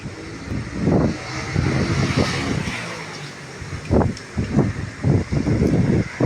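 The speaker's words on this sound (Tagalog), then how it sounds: "Ang lakas pa ng hangin." Strong wind blows outdoors near a midday building fire, roaring in uneven gusts that buffet the microphone with low rumbling bursts, loud and close throughout.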